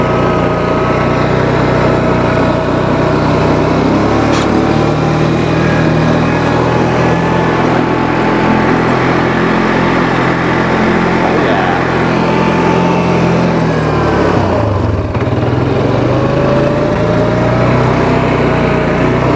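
Small engine of a Yamaha Terrapro PTO mower running steadily at close range, a constant loud drone with a brief dip in pitch near the end, with no talk over it.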